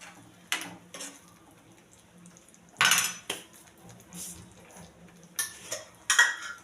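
A spoon scrapes and clinks against a pan while palak paneer with kasuri methi is stirred and mixed, giving several separate bursts of metallic clatter with quiet gaps between them and no talking.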